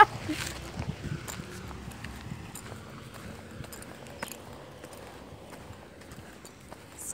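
A horse's hooves clip-clop at a steady walking pace at Byerly Park, moderately close, with faint background noise and no clear talk.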